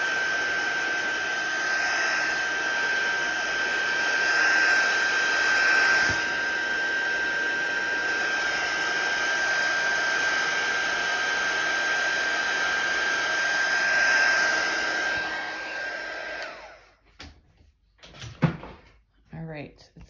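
A handheld drying tool blows a steady, loud whooshing stream of air over a watercolor painting for about fifteen seconds, then cuts off, leaving brief clicks and handling noises nearby.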